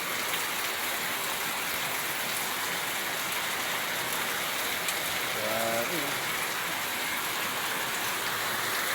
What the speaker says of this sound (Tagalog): Lakas ang ulan.